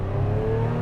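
A Lotus Emira sports car engine roars loud and close as it launches hard from a standstill, a brief burst of steady revving.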